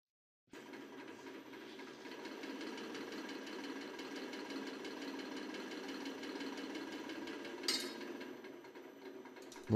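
A hydraulic press slowly pulls apart a pair of novelty handcuffs, producing a steady mechanical pump drone with a brief sharp click near the end, and no voices.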